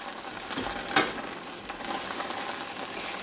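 Cranberries tossed with a spoon in a hot pan give off a soft, steady sizzle with light scraping and stirring, plus one sharp clack of the spoon close by.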